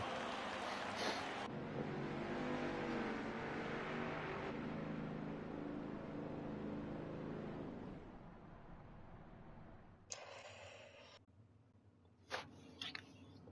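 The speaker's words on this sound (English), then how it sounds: "Then you'll get to see cars going around the track." Race cars at the FTR Cup Pro Am Series at Auto Club circle the track, a sustained engine roar that swells for several seconds and then fades, followed by brief bursts of passing noise.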